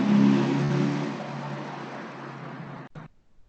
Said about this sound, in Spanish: Pasó la moto.